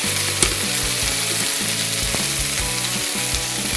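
Brinjal pieces sizzle and fry steadily in a hot pan, with repeated scraping strokes of a spoon as they are sautéed, close and continuous with no talking.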